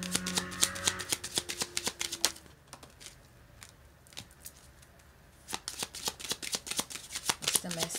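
Kipper oracle cards are shuffled by hand, a rapid, close flurry of crisp riffling clicks that pauses briefly in the middle and then resumes, with faint background sounds.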